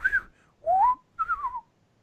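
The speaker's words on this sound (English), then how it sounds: "you can hear, sort of faintly, sort of whistling noise" Three short whistled notes, each gliding in pitch, one rising and the others falling, soft and fairly close with pauses between them.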